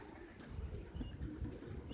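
Czech pigeons coo softly and faintly in a short, quiet stretch, with low murmuring calls over faint background noise.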